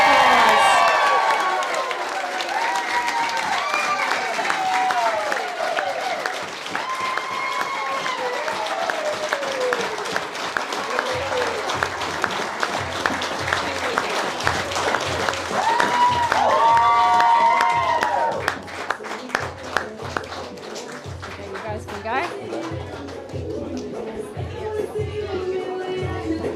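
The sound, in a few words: wedding guests applauding newly married couple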